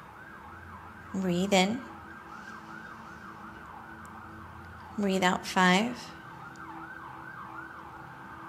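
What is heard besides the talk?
passing emergency vehicle siren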